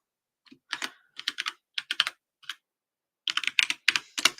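Keystrokes on a computer keyboard in irregular bursts of clicks with short pauses, close and clear, typing a chat message during a livestreamed auction, with no talking.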